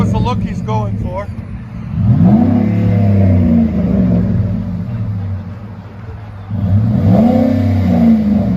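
A 2010 Ford F-150 pickup with a 5.4L Triton V8 and Flowmaster Super 44 dual exhaust, loud deep engine revs rising and falling in two main bursts, with voices talking over the idle.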